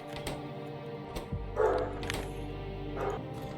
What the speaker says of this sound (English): My dog is going crazy.